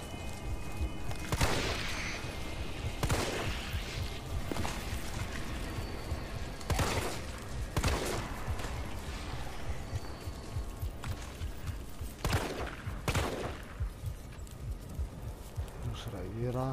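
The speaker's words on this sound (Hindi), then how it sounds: "ओए ये देखो स्पाइडरमैन एक गोली से भी नहीं मरा, बड़ा लाडला है तू, दो गोलियों से मरेगा।" Gunshots in the video game Resident Evil Remake: several sharp, spaced shots ring out over a constant loud game rumble, close and punchy, with no talking.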